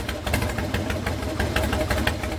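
A 2003 Harley-Davidson Super Glide motorcycle engine idles on its own, a loud, steady low rumble with an uneven, loping pulse close to the microphone.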